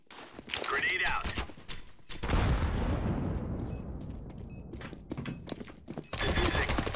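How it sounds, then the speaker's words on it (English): A grenade blast and bursts of gunfire ring out in a tactical shooter video game, with sharp booms and rapid shots between stretches of quieter game sound and brief callouts from players. "Grenade out."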